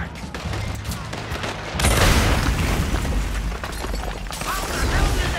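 A large explosive blast goes off in Red Dead Redemption 2, a loud booming crash amid gunfire that rumbles on, with voices shouting over the din.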